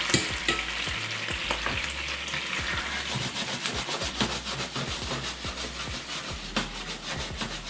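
White wine and a spoonful of butter sizzle in a hot pan with a loud, busy hiss, while repeated scraping and stirring knocks punctuate it throughout.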